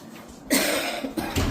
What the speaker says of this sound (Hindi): सभी को खांसी हो रही